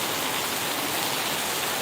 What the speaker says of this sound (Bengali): আমাদের ওদিকে বৃষ্টি পড়তেছে, হ্যাঁ অনেক বৃষ্টি ভাই।